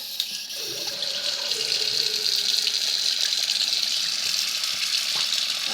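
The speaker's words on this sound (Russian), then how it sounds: "Руки почистили, а тепер умиваємося." Tap water runs steadily into a sink while someone washes their face, a continuous bright hiss with faint splashes under it, close by and with no voice.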